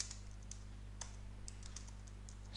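A password is typed on a computer keyboard as a series of faint, light key clicks spread over a couple of seconds against a low steady hum.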